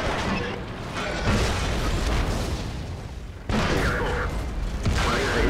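In the World of Tanks video game, heavy artillery blasts boom out inside a dense, continuous game-battle roar, with a sharp new impact about halfway through.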